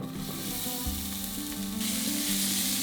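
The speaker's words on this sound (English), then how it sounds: "I've got some olive oil heating in a pan over a medium heat, and I'm going to add a diced onion" Diced onion sizzles in olive oil in a pan over medium heat, a steady bright crackle with stirring movement underneath, loud and close with no talking.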